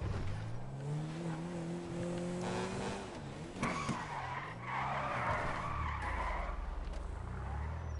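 A drift car in a racing video game skids and squeals its tires. The engine rises and falls in revving pitch sweeps with sustained tire screech, loud and close, with no talk.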